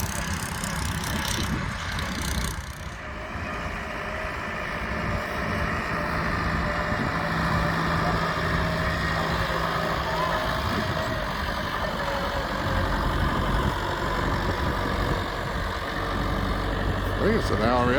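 Old trucks at a vintage vehicle graveyard idle with a steady low engine rumble that runs continuously, mid-distance and moderately loud, with some voices and outdoor noise over it.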